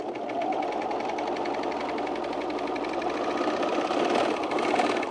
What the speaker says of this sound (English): I've been training myself to sew with my left foot.